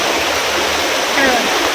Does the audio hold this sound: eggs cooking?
no